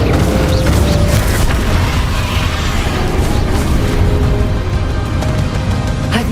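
The Confringo spell goes off in Hogwarts Legacy, a loud, dense barrage of booming blasts and crackling bursts stacked over rumbling game noise, continuous and close.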